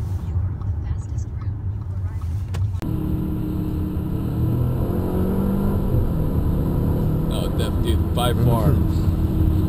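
Audi A4 with an APR Stage 1 tune accelerating under turbo boost, a loud engine drone rising in pitch inside the cabin as people talk over it.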